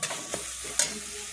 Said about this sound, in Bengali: এবারে থোড়টা একটু ভাজা ভাজা হোক।